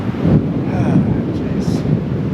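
Strong gusty wind buffeting the microphone at a rocky Wyoming campsite, loud low rumbling blasts surging and easing, with a person talking over it.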